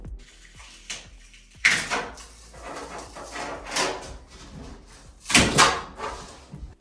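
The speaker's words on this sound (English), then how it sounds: "you're waiting to hear the sound of the glue pulling away" A glued bathroom mirror pulls away from drywall as wooden shims are hammered in along its side, giving irregular creaks, cracks and louder crunching pops in a few clustered bursts, close and alone.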